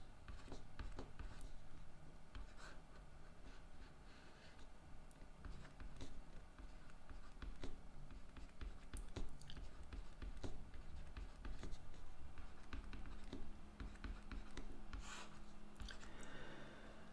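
A pen drawing a table on a board squeaks and scratches in quick repeated strokes and taps, quiet and close, continuing steadily for the whole stretch.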